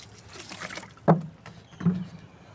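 Water poured onto the soil around a wilted, dried-out rose plant, heard as two short splashing gushes about a second apart, close and fairly quiet, with no voices.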